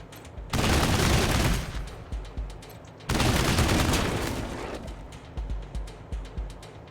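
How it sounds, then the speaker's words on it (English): Machine gun fire in Wasteland 3, two long loud sustained bursts that each tail off, followed by a few separate decaying shots. "Just a regular machine gun on this guy."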